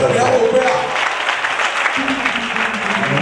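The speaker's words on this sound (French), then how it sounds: "Est-ce qu'on peut acclamer encore?" Audience at an international youth convention in Abomey-Calavi claps in sustained, dense applause that holds steady throughout, loud and close, with some crowd voices mixed in.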